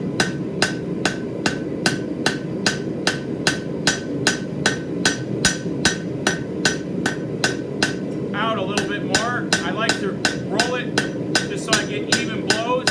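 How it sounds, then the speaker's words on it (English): Rapid, evenly spaced metallic rounding-hammer strikes on metal ring out one after another, with a person talking underneath the steady blows. "I'm going to grab a different hammer. This is a rounding hammer."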